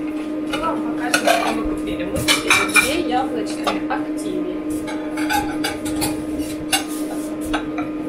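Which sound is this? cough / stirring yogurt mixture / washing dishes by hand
washing dishes by hand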